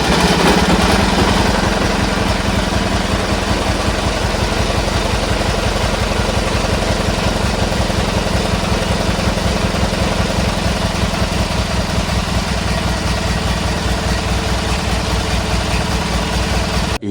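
A Craftsman GT18 lawn tractor engine idles steadily with diesel run through its crankcase. The low, continuous chugging rumble holds an even pulse throughout, close and loud, with no voices.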